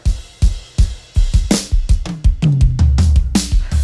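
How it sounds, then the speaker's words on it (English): A live drum kit played through a dry drum bus, punchy kick and snare hits at a steady groove with cymbals ringing and a bass line entering partway, loud and unprocessed. "Here's the drums dry."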